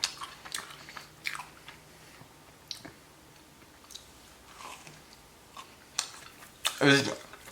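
Someone bites into and chews a soft, sweet ube dessert, close-up moist chewing and smacking in small bursts, with a louder crunchy bite near the end.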